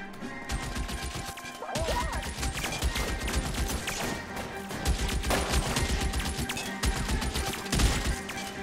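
Dense, continuous gunfire from a shootout in L.A. Noire, loud rapid shots and crashes overlapping throughout with no pause.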